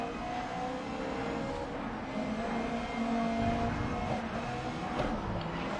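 Engine of a BMW M3 race car in GRID Legends, droning steadily and close up, with pitch rising and falling as it revs and shifts, no voices.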